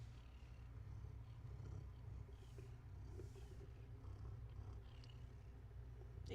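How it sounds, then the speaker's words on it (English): A contented house cat purrs close up in a low, steady continuous rumble, with faint rustling and small movement noises over it and no talking. "Get an ear full of purring."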